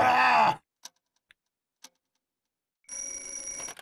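A telephone rings in the video game 1-2-Switch, a bright electronic ringing tone starting near the end after a short burst of voice and a few faint ticks.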